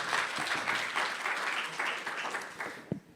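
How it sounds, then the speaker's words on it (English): Audience applause for panel speakers at a summit, a dense burst of clapping that runs steadily, then tapers and stops near the end. "So let's have a round of applause for them"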